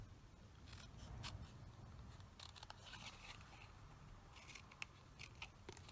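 Scissors snip through card for a small pen gift box, giving faint, close, irregular cuts and crisp clicks over a quiet room.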